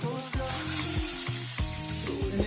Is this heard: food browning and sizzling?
yes